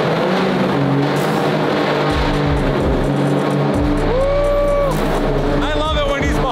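A race car in fresh two-tone light blue and yellow livery drives out onto the block, its engine loud and close with rising revs and tire squeal, and people talk over it.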